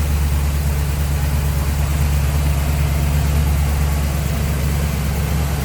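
The engine of a 1964 Chevrolet Impala SS, fitted with headers, idles smoothly with a steady low rumble, continuous and unchanging throughout, without any voices.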